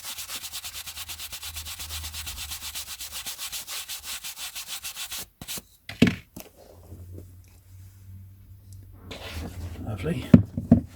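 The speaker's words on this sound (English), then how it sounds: "Really dark cover on this one here," Steady rhythmic rubbing as the dark cover of a vintage Pan paperback is buffed, a dense brisk scrubbing that runs for about five seconds, then stops for soft handling noises and quieter, intermittent rubbing.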